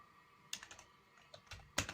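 Keystrokes on a computer keyboard while entering text into an MS Word document: a few scattered clicks and short clustered bursts, close and clear, with no talking.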